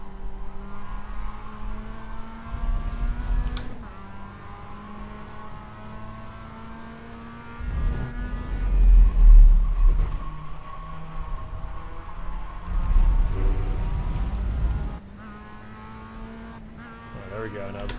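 A car engine revs up in a rising, harmonic drone with a couple of surging pushes and a cut-off, under steady conversation between people throughout.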